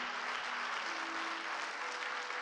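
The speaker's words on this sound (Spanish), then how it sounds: "Denle un fuerte aplauso a ese Dios maravilloso" A church congregation applauds together, producing a continuous, even wash of clapping throughout, heard from within the room with no speech over it.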